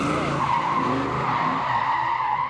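A car does a burnout at a famous burnout spot, its tires squealing and skidding in one continuous loud screech. The engine roar runs underneath and no one speaks.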